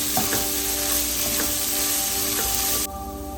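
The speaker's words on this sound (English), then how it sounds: "I kept sauteing the meat, and I kept frying the meat" Ground meat fries in a pan for keema patties, giving a steady dense sizzle with a few faint stirring knocks before it cuts off abruptly near the end.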